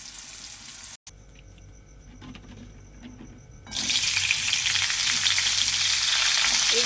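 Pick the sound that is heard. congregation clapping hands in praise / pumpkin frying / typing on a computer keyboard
pumpkin frying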